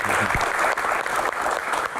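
Loud, sustained applause from a large audience of students and viewers at a Q&A event, dense and continuous clapping close by with faint crowd murmur mixed in.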